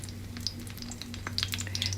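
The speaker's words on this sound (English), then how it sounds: "And I'm going to start frying them." Swiss chard patties coated in egg mixture fry in vegetable oil, giving a close, steady sizzle with scattered sharp crackles and pops.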